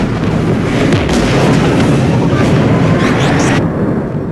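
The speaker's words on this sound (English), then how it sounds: "We're taking fire." Dense, loud battle noise of gunfire and booming explosions from the Mass Effect 3 video game, a continuous barrage of rumbling blasts with crackling shots layered on top.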